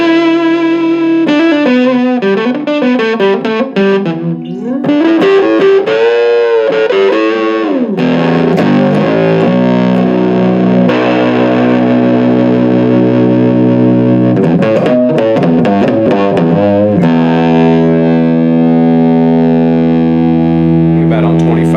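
An electric guitar runs through a cheap AA mini fuzz pedal, loud and heavily distorted, with sustained buzzing chords and bending notes played continuously and close up.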